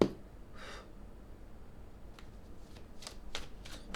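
Tarot cards being shuffled at a quiet tabletop reading, a soft riffle early on followed by several short brushing card strokes, close and fairly faint with no talking.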